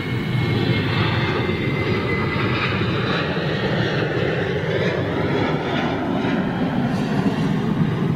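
A jet aircraft taxiing onto a runway gives a loud, continuous engine roar and whine that holds steady throughout, close and unbroken by talk.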